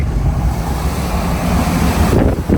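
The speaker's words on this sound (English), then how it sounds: "it's getting windy, boys. It is getting windy." Strong Category 3 Hurricane Milton wind roars and buffets the microphone in a constant low rumble, loud and unbroken throughout.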